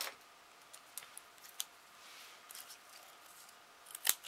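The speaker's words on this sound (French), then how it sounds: "Je vais couper, pardon." Scissors snip through a thin recycled tuna can: a few sparse, faint metallic clicks and cuts in a quiet room, ending with a sharper, louder snip, with no talking.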